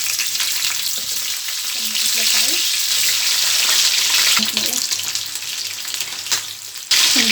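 Meat fries in ghee or butter in a pan with a loud, continuous close-up sizzle. Faint stirring and scraping sounds come through, and a short rattle is heard near the end.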